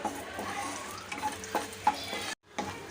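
Cashew nuts roasting in ghee in a pan, a faint, soft sizzle with occasional light stirring clicks and scrapes, interrupted by a brief silent gap near the end.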